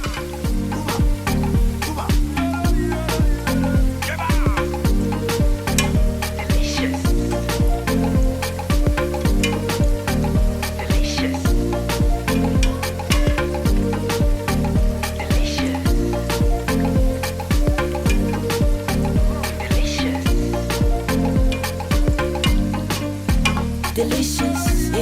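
Koose bean fritters made from unpeeled beans fry in hot oil with a loud, steady sizzle and crackle, punctuated by regular stirring clatter, without talk throughout.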